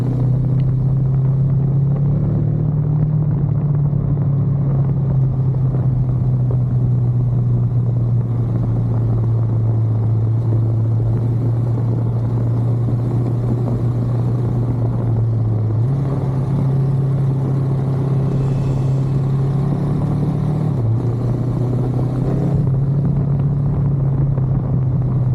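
An off-road car is driven along a slippery, greasy forest trail lined with trees, its engine droning loudly and steadily, rising and shifting in pitch as the throttle is worked, with no voices over it.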